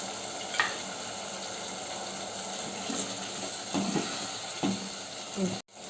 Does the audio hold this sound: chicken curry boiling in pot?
yes